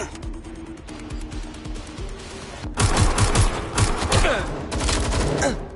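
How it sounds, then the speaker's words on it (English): Gunfire in the video game Watch Dogs Legion: loud, sustained bursts of rapid automatic shots over a busy game soundscape, growing denser and heavier partway through, with no talking. "Suspect is shooting."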